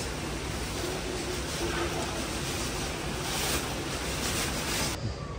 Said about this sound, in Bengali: বাতাস হচ্ছে এরকম করে